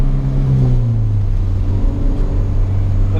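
A Nissan 350Z drifting, its engine holding a loud steady drone that drops in pitch partway through, with a rough rumbling undertone.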